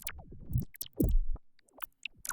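Glitchy synth effect patch: sputtering, stuttering bursts and chopped metallic blips in an irregular rhythm, moderately loud with short gaps of silence between fragments.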